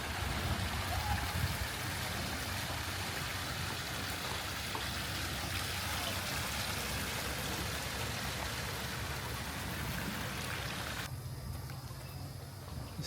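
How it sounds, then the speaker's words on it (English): A small waterfall in a retro village museum setting pours steadily, a continuous broadband wash of falling water, fairly close and unbroken for the whole stretch. "A little waterfall here."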